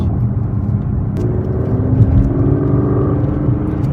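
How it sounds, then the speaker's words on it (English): A 2017 Aston Martin DB11 Launch Edition engine runs steadily and rises in pitch as it accelerates, a continuous close rumble with no talking. "I can give you a little sense of what the acceleration is on this."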